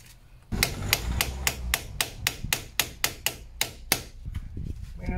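Hammer striking a rusty cap on a 1999 Opel Astra CC 2.0, about a dozen sharp metallic taps in a steady rhythm, close and alone.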